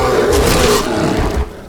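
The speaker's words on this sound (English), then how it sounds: "Why is there another really loud bear, but I don't see anybody?" A loud bear roar from the video game Skyrim, a dense, rough blast that holds steady for over a second before cutting off abruptly, with no talking over it.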